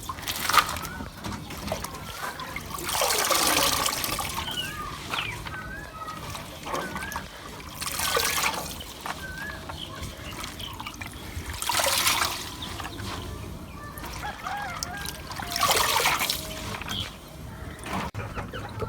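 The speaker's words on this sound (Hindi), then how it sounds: "पालक को पानी से बाहर निकाल लेंगे।" Fresh spinach leaves being washed and lifted out of a bowl of water for a home-style potato and spinach curry. Intermittent sloshing surges alternate with soft trickles and drips close by, repeating every few seconds.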